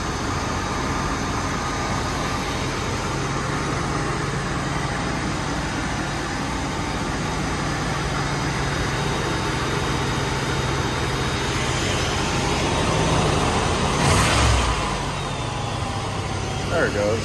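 A 1977 Chevrolet Corvette sits at a steady cold-start idle, a constant close engine drone that swells briefly near the end as the idle shifts, with a voice heard faintly.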